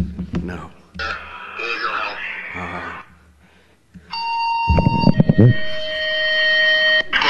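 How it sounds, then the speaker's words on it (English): Radio dispatch tones play during a conference talk: after several seconds of someone speaking, a short pause gives way to sustained, layered electronic tones that hold steady to the end. "analyzes the dispatch tones, which sound like this."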